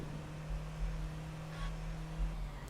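Car engine in the video game Just Cause 2 holds a steady low drone with slight swells, heard alone without speech over a short stretch.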